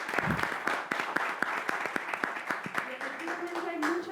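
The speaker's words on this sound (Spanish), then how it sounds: "Eso, aplauso a ellos" Clapping during an online webinar, a steady patter of applause running throughout, with voices audible underneath.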